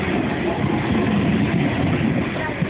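A train rushes past close by, a steady loud roar of wheels and rail noise filling the whole moment without pause.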